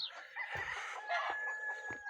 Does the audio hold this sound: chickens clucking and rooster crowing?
yes